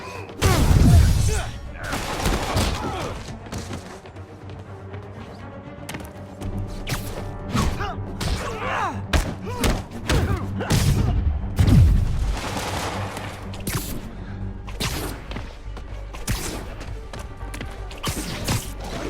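Gunfire during a street fight in the Marvel's Spider-Man video game, scattered bursts of shots mixed with thumps, impacts and heavy hits, all under game music, with occasional voices.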